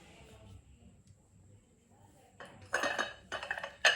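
Ceramic coffee cups, a jug and plates knock and clink together in a few loud bursts near the end, after a quieter stretch of faint handling.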